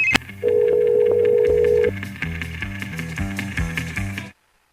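A cellphone rings with a bright repeating electronic tone, starting with a sustained steady beep and then shifting into a rapid pulsing melodic ringtone that stops abruptly near the end, close and loud with no talk.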